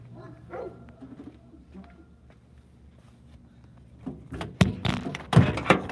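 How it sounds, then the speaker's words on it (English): Dogs bark at a possum behind outdoor air units, a few soft sounds early, then a burst of loud, close barks in the final seconds. "all the dogs are here. Oh, it's a possum."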